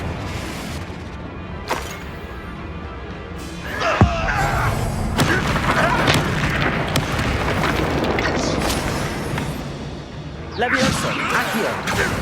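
Confringo spell explosions in Hogwarts Legacy, a series of sharp booms and crashing impacts over dense battle noise and music, with a heavier blast partway through.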